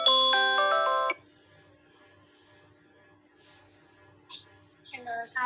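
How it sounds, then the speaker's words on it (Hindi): A phone ringtone chimes loudly for about a second with a bright, melodic pattern, then cuts off into quiet room hush, followed by faint voices near the end. "दोस्तों उसका फ़ोन आ गया।"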